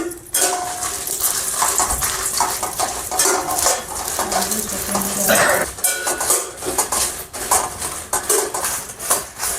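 Guntur red chilies roasting in about a teaspoon of oil in a pan over low heat: repeated close scraping and clattering stir strokes over a faint sizzle.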